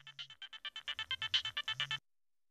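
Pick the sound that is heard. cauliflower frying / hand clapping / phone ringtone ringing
phone ringtone ringing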